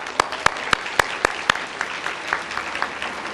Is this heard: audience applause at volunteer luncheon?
yes